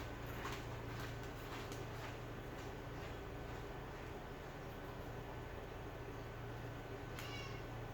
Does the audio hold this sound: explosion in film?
no